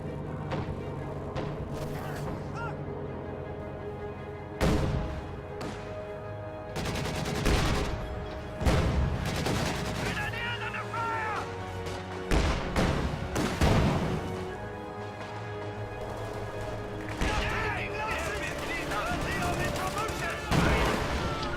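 Canister rounds fired in a video game tank battle, heavy booming blasts recurring every few seconds amid rolling battlefield gunfire and crashes, with a voice talking over the din.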